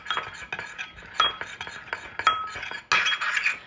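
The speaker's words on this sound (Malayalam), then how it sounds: "ഇളക്കി" A spoon clinks repeatedly against a glass or cup while stirring a home cough remedy of ground cumin and squeezed lemon juice, with close, irregular metallic taps and one brighter burst of clinking near the end.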